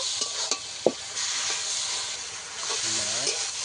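A spice mix with chilli powder fries and is stirred continuously in a pan to dry out its liquid for a taro greens and hilsa head dish, giving a hissing sizzle with a few spatula knocks and a brief faint voice.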